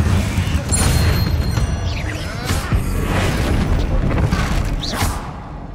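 Fiery Confringo blast spell cast in the Hogwarts Legacy video game, a dense booming burst with crackling impacts and rumbling combat noise, loud and continuous over several seconds.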